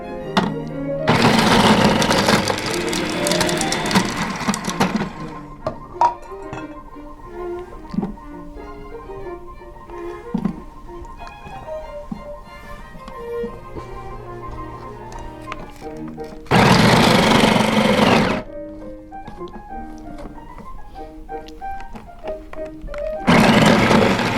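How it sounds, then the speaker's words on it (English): A food processor chops butternut squash in loud bursts of a few seconds each, separated by quieter kitchen sounds in between. "let's put the squash in our food processor"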